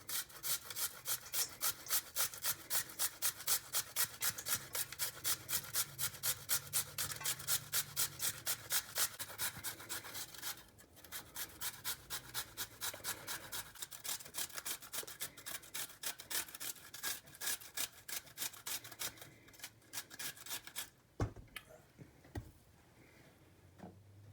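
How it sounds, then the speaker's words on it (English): Potatoes scraped on a tiny box grater, a brisk rhythmic rasping stroke repeated many times, close and clear, slowing and thinning into a few scattered strokes and clatter near the end. "this is a very tiny box grater"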